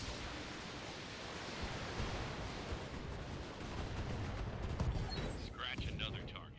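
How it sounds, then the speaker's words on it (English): A weapons barrage in the video game BattleTech fires as a dense, continuous volley of crackling, rumbling shots, held at a fairly low, even level throughout. "I don't expect you to be able to survive this barrage."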